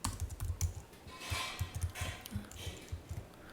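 Someone types code on a computer keyboard while writing a Selenium file-upload script, a quick irregular run of soft key clicks close by with a few louder taps.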